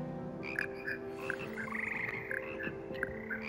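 Frogs croaking in a classroom in the video game Hogwarts Legacy, several short repeated croaks over a low steady hum, clear and close with no talk.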